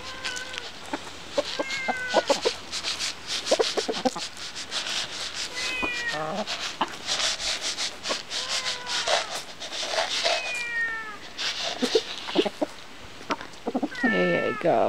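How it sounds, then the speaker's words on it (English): A cat meows repeatedly, insistent and close, with scratching or rubbing noises and faint clucking in the background. "She's been going around meowing."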